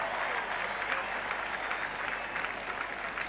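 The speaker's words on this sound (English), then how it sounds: "So that got quite a cheer from the crowd here." A cricket crowd at Old Trafford during a 1976 England v West Indies Test match cheers and claps in a sustained, even wash of applause, distant and spread across the ground.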